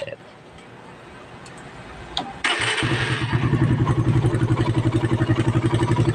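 Motorcycle fitted with a Koso 28mm carburetor starts up after a quiet stretch and settles into a loud, steady, rapid idle pulsing close by, with no talk.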